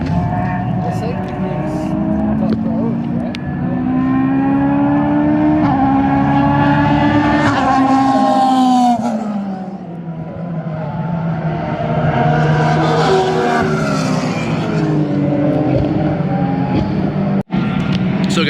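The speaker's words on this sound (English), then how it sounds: "There's a lot of super dialed in race cars right now." Race cars lap a circuit during a NASA time-trial practice session, engines rising and falling in pitch as they accelerate and pass through corners, loud and continuous with several overlapping cars, heard from a balcony above the track.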